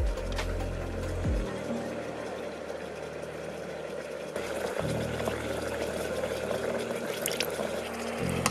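Steady bubbling and hissing of distilled hand sanitizer boiling in a small flask, continuous throughout, with a low mechanical hum running underneath that shifts pitch a few times.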